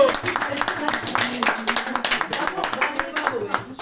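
An audience claps for two performers at a French chanson concert: dense, steady applause, close and lively, carrying on throughout without pause.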